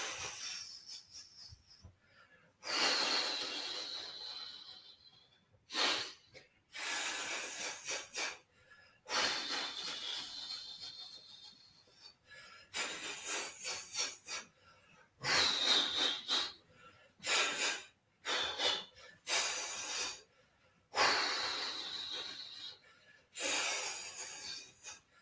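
Deep, slow breaths drawn in and pushed out during a shaking exercise, long airy hisses repeating in a steady rhythm, close and fairly loud with no talking over them.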